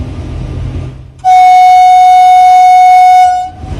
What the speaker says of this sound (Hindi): जैसे ही रेलवे क्रॉसिंग करीब आया, खुद ब खुद हॉर्न बजने लगा।